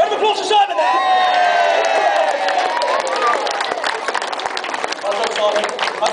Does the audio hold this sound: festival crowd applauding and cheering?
yes